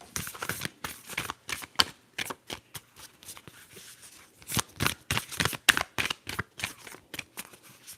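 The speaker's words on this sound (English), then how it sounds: "I'm gonna shuffle again." Tarot cards riffled and shuffled in repeated quick bursts, crisp papery flutters with short pauses between, close up and with no talking.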